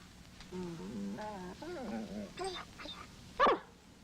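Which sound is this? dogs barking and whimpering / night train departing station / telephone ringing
dogs barking and whimpering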